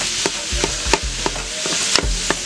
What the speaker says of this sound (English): So the onions are searing up nicely, starting to turn a little bit translucent.